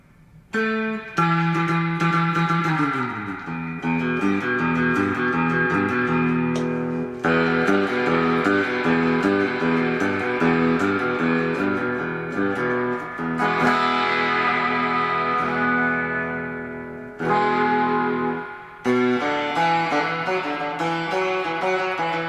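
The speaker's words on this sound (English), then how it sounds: "Let's go back to the classic, the original, the Fender Reverb unit from 1964." An electric guitar played through a 1964 Fender Reverb unit: a long, loud run of chords and picked notes with splashy spring-reverb tails, sustained and continuous with brief pauses, and no talking.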